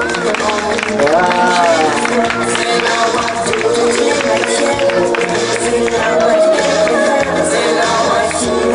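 A live comedy show audience applauds in a steady, loud, dense wash of clapping, with voices and crowd noise mixed in throughout.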